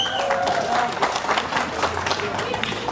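Wedding guests applaud in a dense, continuous burst of clapping throughout, with voices and crowd noise mixed into the ongoing applause.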